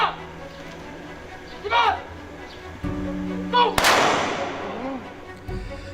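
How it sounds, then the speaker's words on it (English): Sharp gunshot blasts of a 21-gun salute ring out inside a police Special Action Force compound, a loud crack near the middle, followed by echoing rumble, amid background voices and outdoor noise. "21 gunshots echo inside the Special Action Force compound Monday morning as a salute"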